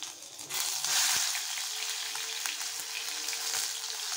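Oil sizzles and spits in a pan as the base for a chapila fish curry with grated onion and garlic, a close, bright frying hiss that swells early and then stays steady, with a few sharp pops.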